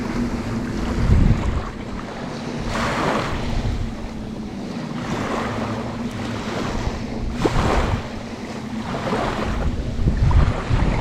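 Ocean waves at Buhat Beach on Koh Samui, Thailand, with a continuous wash of surf and several louder swells breaking, mixed with gusty wind buffeting the microphone outdoors and no talking.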